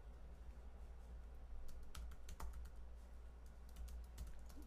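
Keystrokes on a computer keyboard while entering code in Visual Studio, a quiet, irregular run of close clicks over a low steady hum, no talking.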